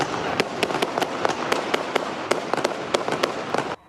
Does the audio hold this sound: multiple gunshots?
yes